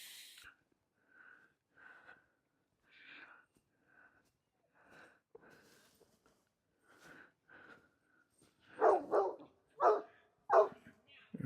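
A St. Bernard–Great Pyrenees mix barks outdoors in a muddy spot, with scattered short woofs and snorts early on, then a run of louder, deep barks close by toward the end.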